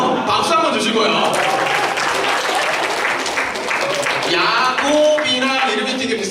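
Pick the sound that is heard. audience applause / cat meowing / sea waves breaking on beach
audience applause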